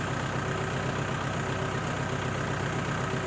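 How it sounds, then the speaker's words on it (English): Tractor engine idling on a farm, a steady, even mechanical drone with a faint whine, constant and unchanging at moderate distance with no talk. "And as you can tell, the tractor's running."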